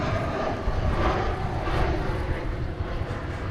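An Aeromexico Connect Embraer 190 airliner arriving at Dallas Fort Worth airport from Mexico City gives a steady, loud engine roar with a broad rumbling body, continuous and close throughout.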